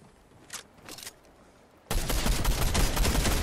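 A sudden burst of dense, loud gunfire in the game Fortnite erupts after a couple of brief faint shots, continuing as a sustained barrage until the end.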